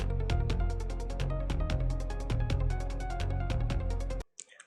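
A drum-and-bass style loop built from a simple hi-hat pattern with layered kick accents, driving rhythmic hits repeating evenly for about four seconds before stopping abruptly.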